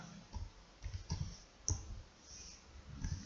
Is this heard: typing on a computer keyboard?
yes